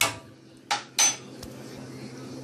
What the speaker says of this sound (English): So let me keep on stirring this and then I'll be back.